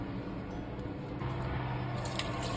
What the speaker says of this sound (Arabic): توا نحلو الزقوقو بالماء. لهنا حطيت 500 مليلتر.